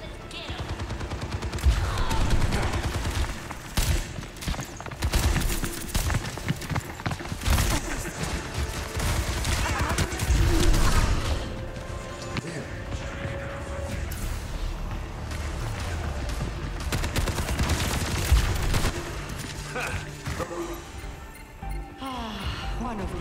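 Shotgun blasts from Overwatch 2 game action, repeated loud bursts layered over busy in-game effects, music and voices.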